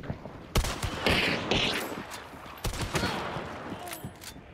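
Rifle gunshots in the video game Hunt: Showdown, from a new rifle: several sharp, loud cracks fired at irregular intervals, each followed by a short ringing tail.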